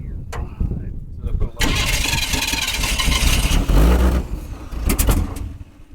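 A 1985 Chevy C-20 square-body truck, pulled from a storage unit, cranks briefly, catches and settles into a loud, rough running rumble close by that continues to the end, with voices talking over it.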